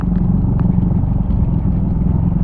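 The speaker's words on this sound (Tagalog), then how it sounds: "Daming riders, oh. Daming mga motor, big bike." Motorcycle engines, including big bikes, rumble loudly and steadily as they ride close by, a continuous heavy drone.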